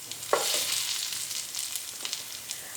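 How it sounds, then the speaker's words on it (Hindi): Ground turmeric and coarse chili frying lightly in a pan for samosa stuffing, a soft close sizzle with a few stirring scrapes and taps scattered through it. "और इनको मसालों को हल्का सा फ्राई करेंगे।"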